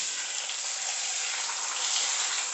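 Pork juices poured back into an Instant dutch oven make a steady, hissing splash that holds evenly for a couple of seconds, with no speech.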